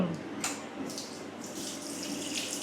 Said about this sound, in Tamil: பார்த்தீங்கன்னா தண்ணி விட்டு கலக்கிறோம்